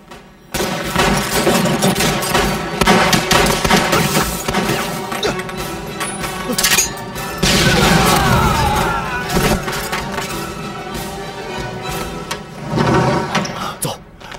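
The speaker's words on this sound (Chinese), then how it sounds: "铁虎他们听到枪声，应该很快就会过来。" Battle gunfire from a Chinese war film about fighting Japanese troops: loud, dense bursts of shots and crashing impacts run almost nonstop, with a brief lull near the middle before the barrage resumes.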